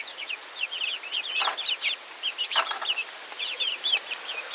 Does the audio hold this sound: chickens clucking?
yes